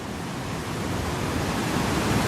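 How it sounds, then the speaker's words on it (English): Tunnel Brook, swollen into a flooded, river-like torrent after storm damage, gives a loud, close, unbroken rush of water with no pauses and no voices. "you can hear the water"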